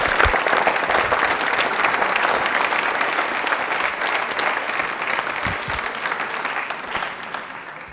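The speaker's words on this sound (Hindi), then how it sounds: "कृष्णकांत के लिए तालियां एक बार जोरदार हो जाए भाई" A studio audience on a Rajasthani television quiz show gives a hearty round of applause for a contestant, dense, sustained clapping that holds steady and slowly thins out over about eight seconds.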